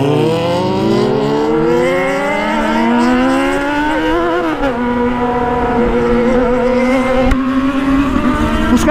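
A vehicle engine accelerates hard on a street, its loud droning pitch climbing steadily through the gears with brief dips at shifts, close and continuous.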